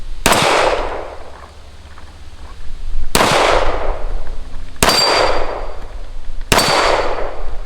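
Four sharp gunshots from a WWII Army-issue Colt 1911 pistol, loud and close, spaced a second or two apart, each with a ringing, decaying tail.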